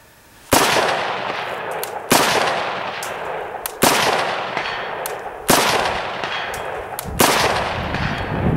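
AK-74 rifle firing five spaced single gunshots outdoors, each a loud sharp crack followed by a long rolling echo that decays before the next shot, about every second and a half.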